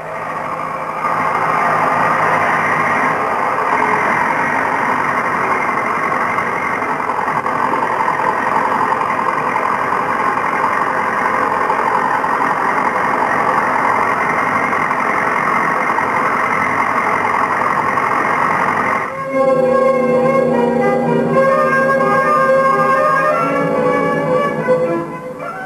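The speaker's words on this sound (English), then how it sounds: "pushing on the last 100 miles to the pole with three tractors" Steady engines of three tractors on an Antarctic expedition near the South Pole droning and idling close by, a continuous mechanical rumble that shifts to a rougher, rattling tone near the end.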